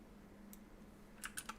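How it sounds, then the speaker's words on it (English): A few quick clicks of typing on a computer keyboard sound near the end, faint and close over a low steady background hum. "Gazemer keeps typing"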